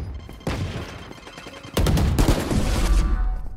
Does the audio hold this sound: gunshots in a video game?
yes